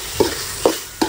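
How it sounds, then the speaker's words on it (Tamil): Tomatoes fry in a pan for country chicken thokku, with three short stirring scrapes spaced evenly over a soft, steady sizzle, close and moderately loud, no talking. "நல்லா தக்காளி வதங்கட்டும்."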